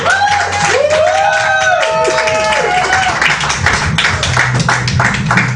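Audience applause at a Doctor Who-themed comedy night, a dense continuous patter of clapping filling the room, with bits of whooping and a voice or two rising over it.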